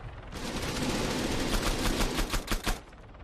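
Rapid bursts of gunfire in the video game Arma 3 crackle in quick succession, growing into sharp, distinct cracks near the end over a noisy background.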